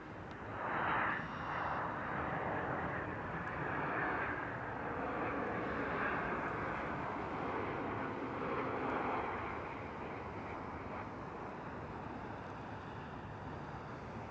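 Aircraft engine roar from planes at Toronto Pearson Airport, a broad steady rumble that peaks near the start and holds at a fairly loud level before easing slightly toward the end, with wind-like noise throughout.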